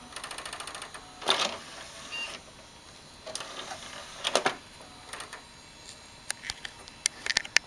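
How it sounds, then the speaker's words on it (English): Computer CD drive whirring and ticking in bursts, with several louder mechanical buzzing spells and scattered sharp clicks near the end; no one speaks. "For anyone wondering what that sound is, it's the CD drive."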